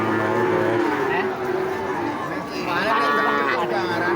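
Black bull calves moo loudly and repeatedly at a crowded livestock market in Blora, Indonesia, their long drawn calls overlapping near and far amid constant crowd chatter.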